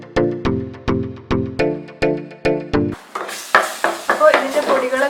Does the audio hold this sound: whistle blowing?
no